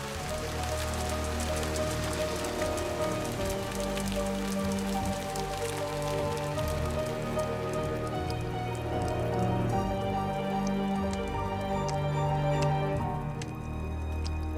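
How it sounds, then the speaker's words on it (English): Heavy rain pours down in a dense, steady patter of drops on surfaces, with a low sustained tonal drone underneath, continuous and fairly soft throughout. "Acid rain poured from the sky, burning those that had managed to survive till then."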